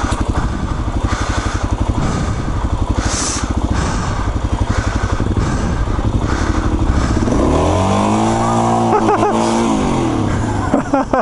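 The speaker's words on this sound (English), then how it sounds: "I'm slipping the shit out of my clutch" A dual-sport motorcycle engine revs loud and close on a rocky gap road, sustained and buzzing as the rider slips the clutch, the pitch rising and falling in a strained surge toward the end.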